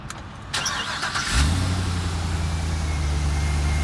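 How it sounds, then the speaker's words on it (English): A 2019 Isuzu truck with a gas engine cranks and catches after a few clicks and a whirring start, then settles into a steady, close, low idle rumble. "I'm going to start it up and listen for any unusual noises."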